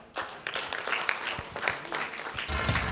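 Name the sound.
audience round of applause at award ceremony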